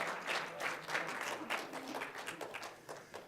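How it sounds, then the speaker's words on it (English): Audience at an academic symposium clapping in a steady, moderately distant burst, a broadband patter of many hands that holds for several seconds and tapers slightly near the end, with no voices over it. "I'd like to ask you to give them a round of applause"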